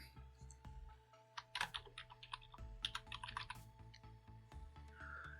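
A computer keyboard is typed on in quick, uneven clusters of crisp clicks while a button caption is entered in the Lazarus programming environment, close and fairly quiet over a low steady hum.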